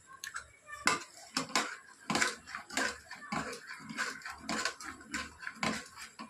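Cooked dal being mashed in a metal pot, with repeated clattering and scraping strikes of a utensil against the pot in an irregular rhythm, fairly close and moderately loud.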